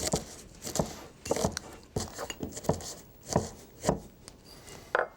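Walnuts for pesto are broken up by hand in a kitchen, giving a series of sharp, close cracks and crunches at an irregular pace, quiet between each hit.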